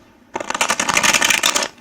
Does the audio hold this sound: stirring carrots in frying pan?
no